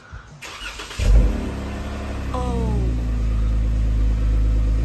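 A 2017 Jeep Wrangler Rubicon JKU fitted with a Borla exhaust cranks and fires up close by, then settles into a deep, steady idle rumble. A brief exclamation is heard at the start.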